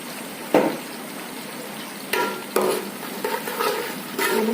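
Green chillies and whole garlic cloves frying in oil in a pan, a soft continuous sizzle broken by several sharper bursts and scraping stirs.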